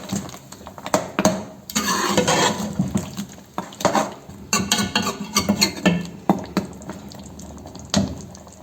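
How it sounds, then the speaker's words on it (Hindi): Chicken qorma being mixed in a pot, with close wet scraping and sloshing strokes in uneven bursts, punctuated by sharp clinks of a spoon against the metal. "अच्छे तरीके से इसको मिक्स कर लें।"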